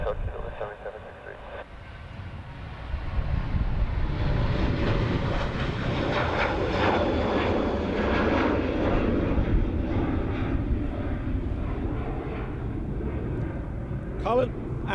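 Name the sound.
aircraft engines at Dublin Airport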